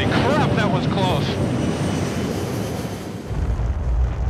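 Virgin Galactic spacecraft rocket engine firing after release, a loud, continuous roaring rumble with a broad hiss, steady throughout and filling the whole stretch without breaks.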